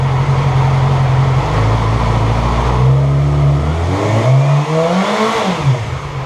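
Engine of a 2006 Yamaha R6 motorcycle with a bad stator, running loud and close at a steady idle, then revving up through a rising, falling whine and dropping back.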